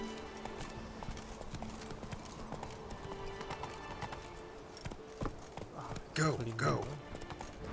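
Hooves of the horse Roach galloping in The Witcher 3, a rapid continuous clip-clop rhythm with a whinny near the end, under a man's brief spoken words.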